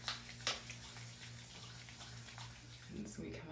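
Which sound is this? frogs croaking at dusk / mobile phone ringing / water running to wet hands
water running to wet hands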